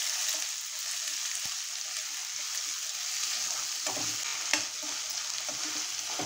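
Two large chopped onions fry in hot oil with mustard seeds, cumin and carom seeds, giving a continuous soft sizzle with a few faint taps from the pan.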